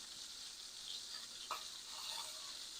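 Butter sizzles quietly in a cast iron skillet beside a steak, a soft, even hiss with one brief pop partway through.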